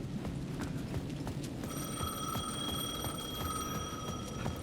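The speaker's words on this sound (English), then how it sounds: "The payphone at the edge of the plaza was ringing again." A payphone rings at the edge of a plaza in Alan Wake 2, its bright electronic trill starting partway in and repeating steadily over soft footsteps.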